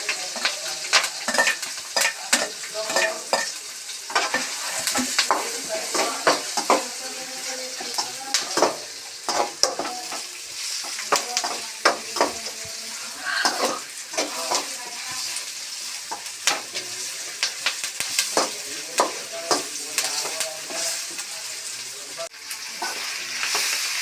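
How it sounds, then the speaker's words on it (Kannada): Onions and curry leaves sizzle in a hot pan, with frequent close scraping and clattering stirs over a continuous frying hiss. "ಈರುಳ್ಳಿ ಕರ್ಬೇವಿನ ಸೊಪ್ಪು ಹಾಕ್ತಾಯಿದ್ದೀನಿ"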